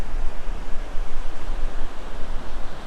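Waves wash in on Agonda Beach in Goa, a steady broadband surf hiss with gentle surging swells, mixed with some wind, no voices.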